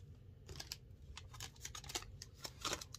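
A pair of inexpensive Dollar Tree scissors being handled up close, giving a scattering of light clicks, snips and rustles in an uneven rhythm, quiet and with no talking.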